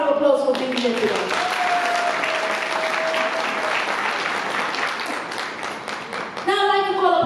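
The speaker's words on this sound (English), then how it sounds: "give yourselves a round of applause for being here today" Conference audience at a women in agribusiness event on the Copperbelt applauds steadily for several seconds, a dense even wash of clapping, with a speaking voice briefly audible at the start and again as it fades.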